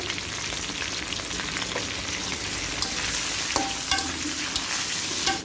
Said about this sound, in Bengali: চিংড়ি মাছগুলো একটু হালকা করে ভেজে নেব